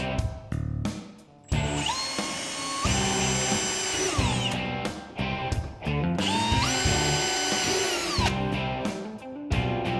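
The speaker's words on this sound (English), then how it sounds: "You're going to take your drill and drill these markings." A power drill whirs loudly in repeated bursts, its pitch rising as it spins up and bites into an Otter XT X-Over ice fishing sled, with short pauses between runs.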